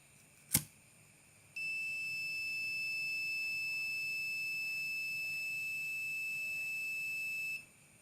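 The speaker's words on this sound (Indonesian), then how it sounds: "Ketika mendeteksi api, buzzer berbunyi." Buzzer of a homemade flame-sensor fire alarm built with a NodeMCU, giving one steady continuous high-pitched tone for about six seconds after a brief click, then cutting off, alone in a quiet room.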